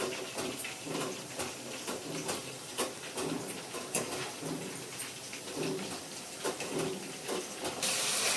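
Potato chips frying in hot oil give a dense, continuous hiss full of rapid crackles and pops, steady and close throughout, with no talking.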